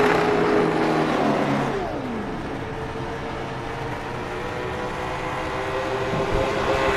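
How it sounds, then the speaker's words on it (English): Pavement late model race cars roar along the track at Nashville Fairgrounds, engines loud at first then settling into a steady drone as they pass at a distance. "some of the cars just got really loud in that sequence right there"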